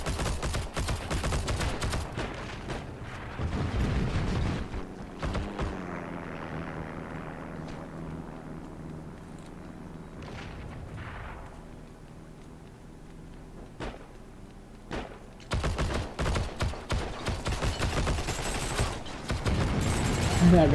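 Thompson submachine gun firing in the World War II shooter Heroes & Generals, loud rapid automatic bursts at the start and end, with a quieter stretch of engine drone and scattered distant shots between.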